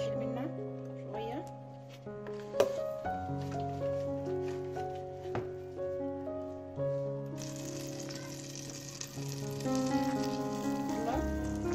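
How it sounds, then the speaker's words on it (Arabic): Butter melts and sizzles in a cooking pan, a soft hiss under louder background music that brightens and grows steadier in the second half. "يلا سيح الزبدة."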